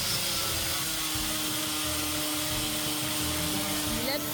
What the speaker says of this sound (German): Wir schleifen jetzt einfach seit 4 Tagen durchgehend.